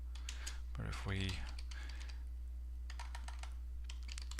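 Bursts of clicky keystrokes on a computer keyboard, close and fairly light, with a brief voice in between and a steady low electrical hum underneath.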